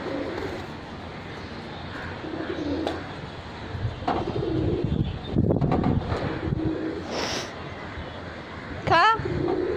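Pigeons cooing near a quarrelsome animal pulling at their feathers, soft throaty coos and wing flutters close by, mixed with wind and people talking over the scene.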